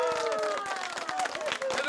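A crowd claps and cheers in a dense burst of applause for a team at a village comedy event, with voices mixed into the noise.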